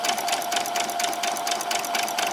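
A sewing machine runs steadily while stitching pajama bottoms, a fast continuous mechanical whir and needle chatter with no pauses, close and fairly loud.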